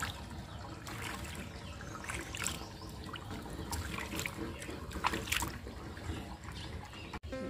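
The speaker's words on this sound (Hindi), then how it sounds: "ये देखिए पानी कितना बढ़िया जा रहा है।" Rainwater runs across a flat rooftop during a sudden rain, a continuous close trickle and splashing wash with scattered drips, fairly faint and steady throughout.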